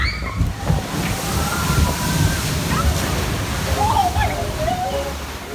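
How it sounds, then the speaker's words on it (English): Water sloshes and splashes steadily around a log flume boat on Splash Mountain at Disney World, with a continuous rushing wash and ride rumble close by throughout. "If you get wet here, it'll be most likely from water coming over the sides"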